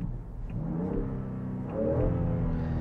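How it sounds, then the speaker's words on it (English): A straight-six engine in a 2021 Land Rover Defender X 110 revs up twice with a rising, smooth snarl, heard close and alone. "you hear that typical straight six snarl"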